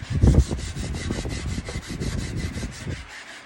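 Rapid rhythmic back-and-forth rasping of hand sanding a steel knife blade, close and steady, strokes repeating about five times a second.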